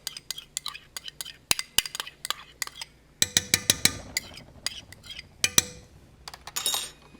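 Spoon clinking against a bowl while Morita chili mayo is mixed, a quick run of sharp metallic taps and scrapes that thickens into dense stirring midway, with a voice talking in between.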